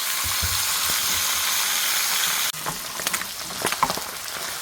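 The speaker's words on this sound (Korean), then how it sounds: "가방고등어도 튀기네." Salted mackerel fries in a pan with a loud, dense sizzle that suddenly drops to a quieter bubbling crackle with scattered pops.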